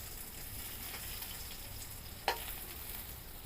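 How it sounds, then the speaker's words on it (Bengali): Potatoes fry in hot oil for an aloo dish, a quiet continuous sizzle with one sharp clack of a utensil as they are flipped. "এখন আলুগুলো এক সাইড যেহেতু ভাজা হয়ে গেছে, আমি আর আলুগুলোকে উল্টিয়ে দিচ্ছি"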